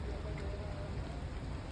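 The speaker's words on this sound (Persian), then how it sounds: "ببینین اینجا رو، بارون رو ببینین" Steady rain pattering down nearby outside a university in Iran, a continuous even hiss with no other clear sounds.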